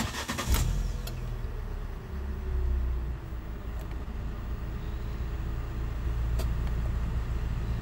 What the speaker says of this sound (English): And we'll just start the car up.